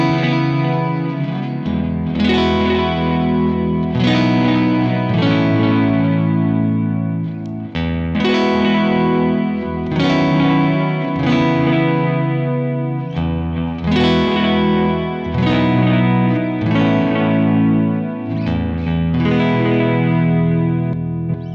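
Electric guitar chords played through a Kemper amp profiler's Deluxe Memory Man single-delay effect, loud and steady, with strummed chords repeating every couple of seconds and trailing echoes, no talking.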